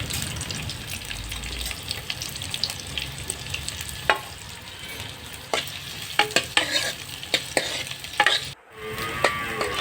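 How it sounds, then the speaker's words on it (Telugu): Onions fry in oil in a kadai on a stove, a continuous sizzle broken by scraping stirring strokes and occasional clatters that grow busier toward the end. "స్టవ్ ఆన్ చేసి కళాయిలో కొంచెం నూనె వేసుకుందాం ముందుగా ఉల్లిపాయలు వేసి కొంచెం వేపుకుందాం"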